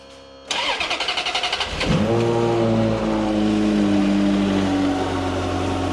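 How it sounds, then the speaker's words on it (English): A Ferrari 355 engine cranks with rapid rhythmic starter pulses, catches with a sharp flare, then settles into a loud, smooth idle nearby. "the glorious sound that the 355 makes"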